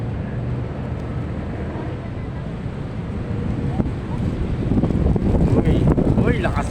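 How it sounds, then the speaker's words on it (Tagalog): Strong wind roars against the microphone throughout, growing louder toward the end as faint voices come through underneath. "Lakas ng hangin"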